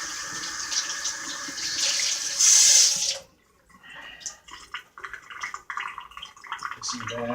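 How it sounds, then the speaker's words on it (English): Tap water running into a kitchen sink to rinse food, a steady loud gush for about three seconds that stops abruptly, followed by a person talking and rustling nearby. "quick rinse."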